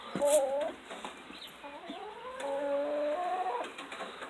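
Chickens cluck and croon nearby in a quiet, enclosed space, their drawn-out calls rising and falling without a break.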